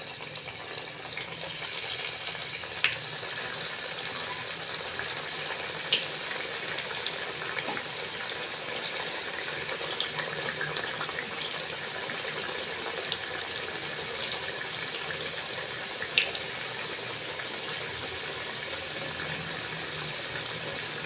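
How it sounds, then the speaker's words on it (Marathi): Rolled alu vadi, taro leaf rolls, fry in hot oil with a continuous hissing sizzle that holds steady for about twenty seconds, broken by occasional small pops. No one speaks. "तेल गरम झाले तर आळूवडी आता आपण तळून घेऊया."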